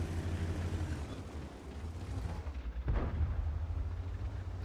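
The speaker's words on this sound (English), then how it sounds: "Takes a shot at the Conqueror and does penetrate." Tank cannon fire in a tank video game, a heavy boom near the three-second mark rising over a constant low engine rumble and battle noise, with no talking.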